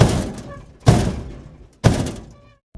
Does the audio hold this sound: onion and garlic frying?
no